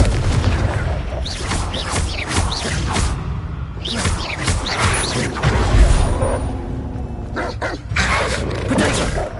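Confringo blasting spells go off in a Harry Potter video game as repeated booming explosions mixed with magical whooshes and crackles, with bursts of voice between blasts in a loud, busy duel.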